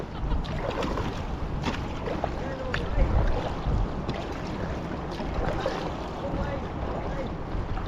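Paddling an inflatable kayak on the River Ure at Boroughbridge, with steady water swishing and splashing from paddle strokes under constant wind noise on the microphone, continuous and close throughout.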